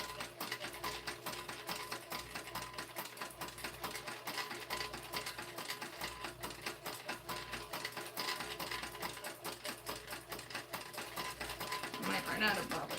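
Sewing machine stitching packs, a fast continuous mechanical rattle of the needle running steadily up close, with a person talking over it.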